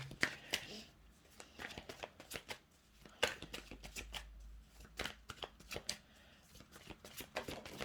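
Tarot cards are shuffled by hand in a tarot reading, a quiet close run of rapid riffling flicks and soft slaps in irregular bursts with no talking over them.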